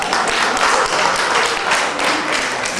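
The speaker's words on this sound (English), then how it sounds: "Give them a big hand clap." Dense, steady applause from an audience at a senior citizens' theatre performance, a continuous wash of many hands clapping at an even loudness for the whole stretch with no gaps.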